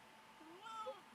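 A pet cat named Banner gives a short, fairly faint meow with a rising then falling pitch, heard alone in a quiet room.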